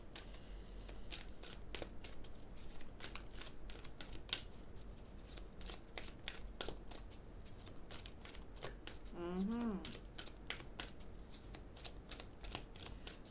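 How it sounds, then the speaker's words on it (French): Playing cards handled, shuffled and drawn, a quiet series of close, sharp flicks and riffles with a brief soft murmur partway through. "J'ai tiré une autre carte."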